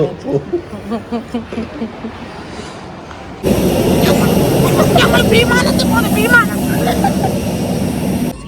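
Voices murmur briefly near Tirumala, then an airplane roars overhead in a loud, steady rumble that fills the rest of the clip.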